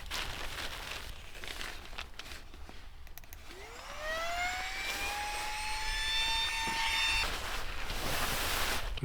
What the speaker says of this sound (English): We brought along this Flextail Zero pump.